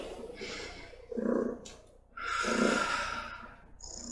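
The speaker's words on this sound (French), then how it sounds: "Je vous invite ensuite à prendre à nouveau une grande respiration et à souffler." A person takes a slow, deep breath and then exhales audibly, with two full breathy swells separated by a short pause, close and fairly loud in a quiet room.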